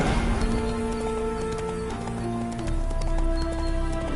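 Horse hooves clip-clopping steadily in The Witcher video game, a mid-close rhythmic plodding under a bed of ambient music and environmental noise, no talk.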